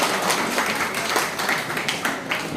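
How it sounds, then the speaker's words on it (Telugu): Audience applause at a Vasavi club governor's visit felicitation event, steady crowd clapping filling a short stretch, fairly close and even in loudness without a break. "అందరు క్లాప్స్ కొట్టండి."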